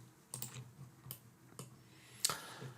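Excel functions being entered on a computer keyboard, three or four sparse, soft key clicks with a sharper tap near the end, close and quiet with no talking.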